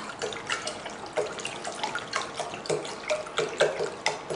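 Demineralized water pouring into a vessel, a steady splashing trickle with irregular bubbly spatters running throughout, close and moderately loud with no speech.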